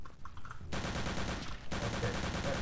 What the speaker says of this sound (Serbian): Opet čujem neko pucanje.